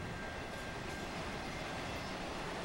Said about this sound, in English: 7-minute long train. And it's hauling ass pretty good.